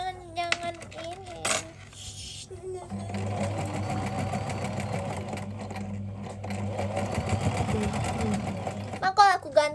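A sewing machine runs steadily at home with a fast rhythmic stitching clatter for several seconds, framed by people talking, a voice and small clinks before and after.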